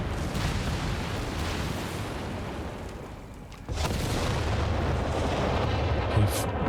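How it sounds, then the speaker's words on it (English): Artillery barrage in Company of Heroes 3 striking a 17 pounder: a dense, continuous roar of booms and blasts. It dips briefly midway, then surges back loud, with a sharper burst near the end. "going for the barrage on the 17 pounder"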